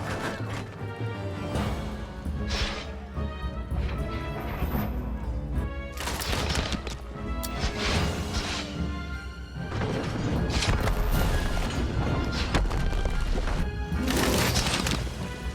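Trebuchets in the video game Humankind hurl heavy projectiles in a battle, heard as a dense, continuous barrage of crashing impacts and booms layered with battle noise, loud throughout and swelling further in the second half.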